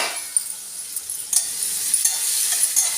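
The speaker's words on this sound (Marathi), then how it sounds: "बघा, कांदा तळायला आला थोडा." Sliced onion and a small potato, cut lengthwise, fry in a pan for Marathi-style tondli bhaji. A bright, steady sizzle runs close throughout, broken by light stirring clicks and scrapes about every half second.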